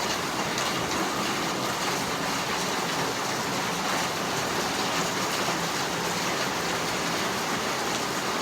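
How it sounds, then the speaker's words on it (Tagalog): Heavy rain pours steadily alongside rushing floodwater, making a dense, loud, unbroken roar with no pauses throughout. "Yan ang agos ng tubig."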